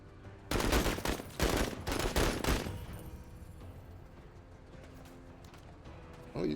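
Gunfire in a turn-based tactics video game: a short volley of four or five loud, close shots in quick succession, then a fading tail and quiet game ambience, with a brief voice at the end.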